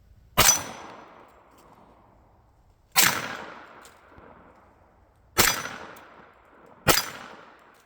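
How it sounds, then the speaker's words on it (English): Four loud, sharp rifle shots from a TNW Aero Survival rifle chambered in 40 S&W, fired at a target outdoors, spaced a couple of seconds apart, each with a ringing decay. "now we'll go ahead and give this a shot back at the target"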